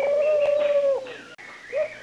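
A pigeon in an animated children's story about a dove and an ant gives a loud, close, drawn-out cooing call, then a short second coo after a brief break.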